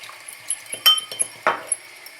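A utensil stirs starch into water in a small bowl, giving quick light clinks and scrapes against the bowl in an irregular rhythm, close and fairly quiet, with no talk.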